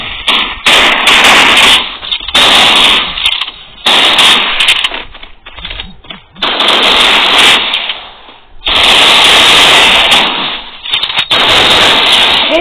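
A shooting video game fires off rapid bursts of sharp, crackling gunshots that come in dense clusters separated by short pauses. The shots are very loud and close throughout, with no voices.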